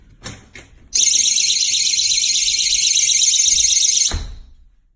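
After a couple of quick clicks, a GE personal security door alarm blares a loud, steady, piercing electronic tone for about three seconds at close range, then cuts off with a thump.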